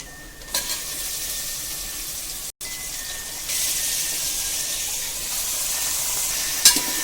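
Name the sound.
mutton added and sizzling with fried onions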